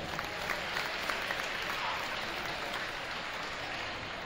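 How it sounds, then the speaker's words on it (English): A crowd at a high school basketball game applauds a cheer senior with a steady, dense burst of clapping that carries on evenly throughout. "Let's give a round of applause for Ashley."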